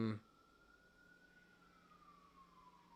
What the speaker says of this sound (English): Got a siren.